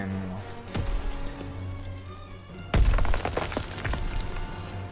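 A video game grenade explosion: a sharp blast lands near the one-second mark, then a second, louder and closer detonation follows about two seconds later with a crackling, shattering tail over steady game background noise.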